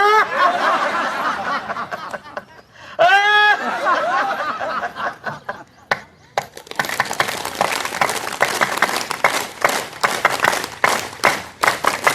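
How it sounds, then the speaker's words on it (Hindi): During an outdoor yoga session, a group claps hands quickly for several seconds, a dense rapid patter mixed with laughter and chuckling, and a brief sung or called-out voice partway through. "ऐसे 2, 4, 5 मिनट तेजी से ताली बजाएं"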